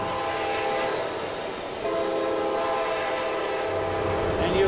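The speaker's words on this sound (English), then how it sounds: "That's an Amtrak train, and it's going to be heading from Pittsburgh to Philadelphia." An Amtrak passenger train rumbles past at a distance, its horn sounding in sustained tonal blasts over the steady roll of the cars.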